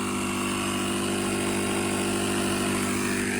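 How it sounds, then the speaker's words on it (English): A Stanley jump starter pack's built-in air compressor inflates a tire, giving a loud, steady motor drone with a strong even hum that runs unchanged throughout, with no speech. "So in 25 minutes it can pump a tire up from flat to about 40 PSI."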